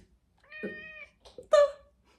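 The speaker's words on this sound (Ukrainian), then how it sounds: "І це мій кіт." A large, heavy domestic cat nearly eight years old meows twice at close range, a drawn-out tonal meow followed by a shorter, louder one, with brief quiet between.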